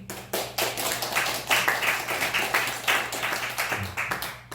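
Church congregation clapping together during a Sunday worship service, a dense steady round of applause from many hands lasting several seconds, without voices.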